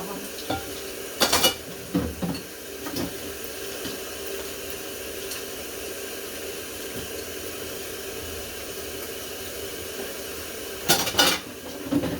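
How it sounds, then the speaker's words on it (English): Used cooking utensils being rinsed and washed in a home kitchen while breakfast eggs fry, with clattering dish and cutlery knocks in bursts near the start and end over a steady hiss of running water and sizzling. "Just washing off the stuff that I used so I can clear my area."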